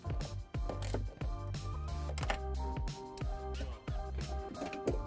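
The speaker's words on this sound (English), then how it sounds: "Installing our loop or eyelet, a ring connector, and replacing the hex nut." A hex nut tightened with a 10 mm socket onto a ring connector during trailer wiring on a 2016 Kia Optima, giving a rapid run of ratcheting clicks and metallic ticks, close and steady.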